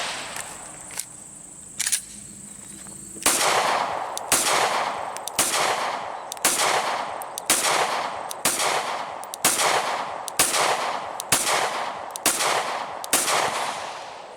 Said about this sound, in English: So I'm gonna actually shoot this a little bit slower and count my rounds to see how many actually it accepted.